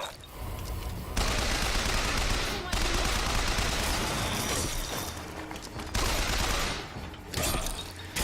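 Sustained gunfire in the video game Bioshock Infinite, dense rapid bursts and fusillades filling several seconds with brief pauses between volleys, loud and close, with some talk underneath.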